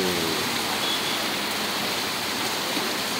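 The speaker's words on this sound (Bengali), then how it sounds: "অনেক জোরে জোরে বৃষ্টি হচ্ছে" Heavy rain pours down steadily in a dense, continuous hiss with no pauses, loud and close throughout.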